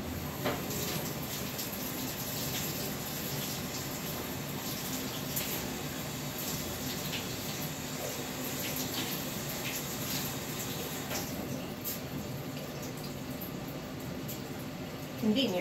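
Water runs steadily from a tap in an old basement as a paint brush used for acrylic painting is rinsed, a constant close splashing hiss with no pauses.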